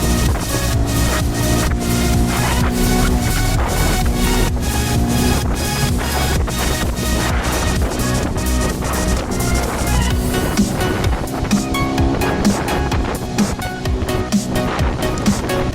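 A Flagman DK 350 boat with a Yamaha outboard planes hard against the waves, its engine droning steadily and loud under constant rushing water and hull slaps.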